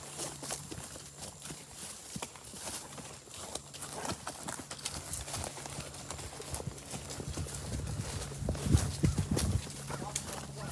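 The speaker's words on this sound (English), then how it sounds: "So basically exercising 3 horses in the form of one." Horses walk in a paddock, hooves clip-clopping in an uneven, steady pattern at moderate distance, with faint snorting and shuffling, louder near the end.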